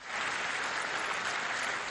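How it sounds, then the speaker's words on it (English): A resounding ovation in the UN General Assembly chamber as a Palestinian leader enters, dense sustained applause from a large crowd, even and loud throughout. "Then a resounding ovation as a Palestinian leader entered the General Assembly chamber."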